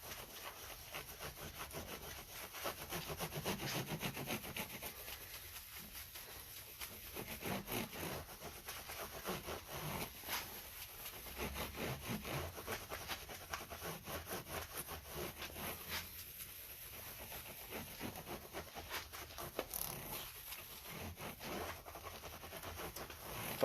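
A cloth or hand rubs a treatment into a bass guitar fretboard, making soft, faint scratchy strokes that repeat unevenly and close.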